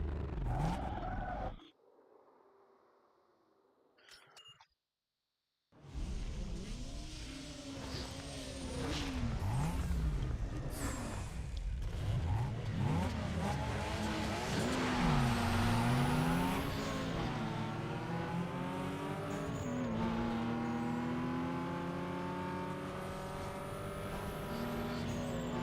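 Racing cars in Need for Speed Underground 2: a car engine revs and climbs through gears in rising and falling sweeps, with tire squeal and skids, after a short near-silent break at the start of the race.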